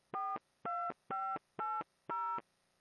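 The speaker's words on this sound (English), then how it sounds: "A tone dial phone system will produce tones when dialing that sound like this." Five evenly spaced touch-tone beeps sound in turn, each a short steady dual tone separated by brief silences, clear and close.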